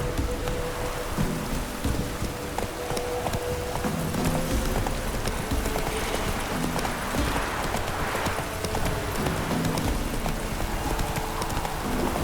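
Roach the horse gallops in The Witcher 3, a steady, fast clip-clop of hooves close by, set against a continuous bed of rain with low rumbles of thunder and no talk.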